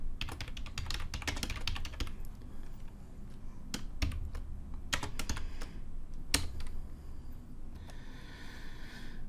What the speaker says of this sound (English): I can't talk and type